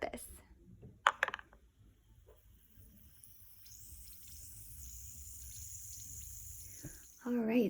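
A manicure soak ball drops into a bowl of water with a sharp splash, followed by a steady soft fizzing and watery hiss that continues under a quiet room.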